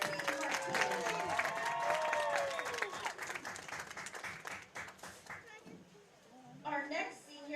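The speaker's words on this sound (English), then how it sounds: "A round of applause for number 13, Mahetsi Martinez." A crowd at a high school girls soccer senior night gives applause for a senior player, clapping and cheering under a loud announcer's voice and children's chatter, fading briefly before swelling again.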